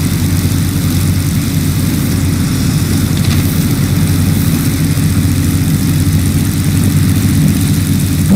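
Warplane engines in the video game World of Warplanes drone steadily and loudly, a continuous low propeller roar with no break and no voices.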